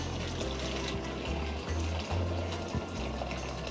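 Freshly boiled hot water is poured in a continuous close stream, filling a container with a steady gurgling wash that shifts in pitch as it fills.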